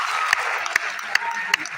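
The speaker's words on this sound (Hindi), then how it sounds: "अरे इनके लिए ताली होनी चाहिए यार।" Audience applause at a motivational speaking event in Hindi: a dense wash of clapping with a few sharper, evenly spaced claps standing out.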